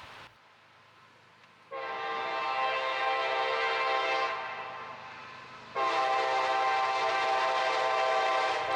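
A CSX freight train led by a New York Central heritage locomotive sounds its horn: two long, loud, sustained blasts with a short easing between them, over a low rumble of the passing train.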